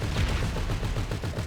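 Rapid bursts of video-game gunfire crackle without a break, loud and dense like automatic weapons, with no voices over them.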